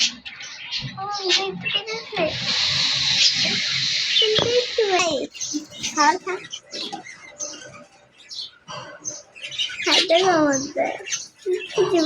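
Young dove chicks give repeated squawking, chirping calls up close while being picked up and handled, with a person talking at times in between.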